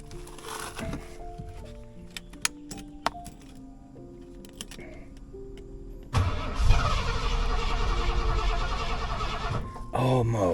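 A 1989 Ford F-150 engine cranks with clicks and brief starter bursts, then roars and catches loudly, running rough and uneven near the end.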